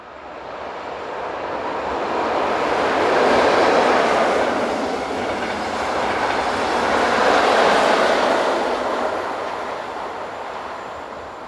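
A passenger train on the 1102 Koblenz to Frankfurt service, hauled by two locomotives, rumbles past in a broad, steady roar that swells twice as the cars go by, with no voices.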